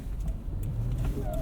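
A Lexus GX 460 on Cooper Discoverer AT3 4S all-terrain tires drives through deep snow, its engine rumbling steadily and close as it downshifts to slow down, with continuous low road and drivetrain noise.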